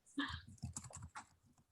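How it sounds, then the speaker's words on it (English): Light typing on a computer keyboard during an interview, soft irregular key clicks in short bursts, faint and close, mixed with brief low murmurs of voice. "Are you here typing?"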